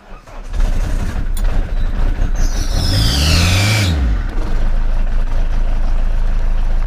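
A Volkswagen Polo G40 engine cranks and starts, then settles into a loud, steady idle with a brief rising and falling rev in the middle, close up.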